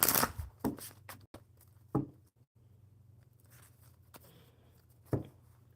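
A deck of playing cards being shuffled at a table during a relaxed live coffee chat: a few brisk, papery bursts with quieter gaps and a low steady hum underneath.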